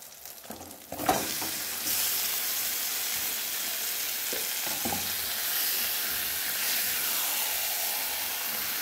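Chicken pieces drop into hot oil in a pan for chicken kosha, a brief clatter giving way to a loud, steady frying sizzle with occasional stirring clinks, no voices.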